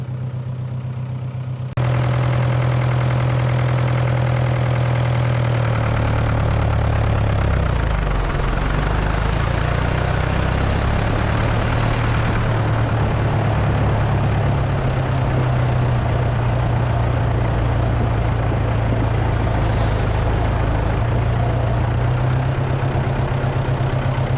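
A Fordson Major tractor engine runs steadily in sixth gear after repair of its high/low range, a loud, continuous low rumble with a slight pitch shift early on, close and without speech.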